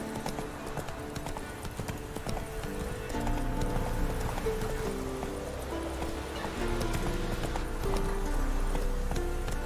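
Roach, a horse in The Witcher 3, gallops with a continuous rapid clip-clop of hooves close up, along with game sounds.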